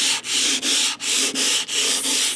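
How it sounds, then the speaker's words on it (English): An electric hand sander lightly sands wooden furniture, rasping in steady back-and-forth sweeps, the hiss briefly dipping at each change of direction, close and fairly loud. "So I'm gonna just go over this with my hand sander."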